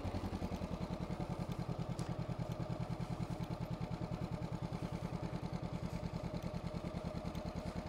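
During a riding lesson, a motorcycle engine runs with a steady, rapid low throb that stays even throughout, close and fairly quiet, with no talk.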